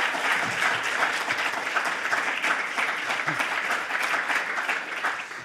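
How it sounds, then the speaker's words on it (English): Audience applause at an education conference parallel session, a steady dense wash of clapping from a roomful of people that holds at an even level for the whole stretch and eases slightly at the end, with no speech over it. "A round of applause, please."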